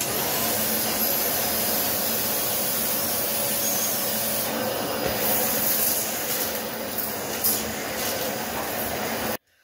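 An Aspiron CA006 canister vacuum cleaner set to tile mode runs on a tile floor with a loud, steady whooshing roar and hiss for about nine seconds, then cuts off abruptly.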